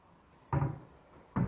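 Two short knocking bumps about a second apart as a cabinet door on a minimalist TV backdrop unit opens and closes, close and distinct against a quiet room.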